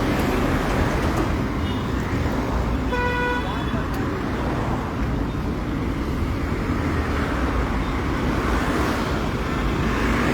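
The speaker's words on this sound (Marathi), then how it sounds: "पोरवरी भागाक जी रस्तो आसा तो फूल जाम जाल्लो आसा" Jammed road traffic on the Panaji–Porvorim road in Goa, with an ambulance caught in it: a constant loud rumble of idling and creeping engines, broken by one clear horn blast partway through.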